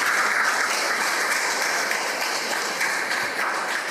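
An audience applauding at a free food distribution event run by a trust clinic and Lions Club, dense steady clapping from many people, loud and sustained throughout.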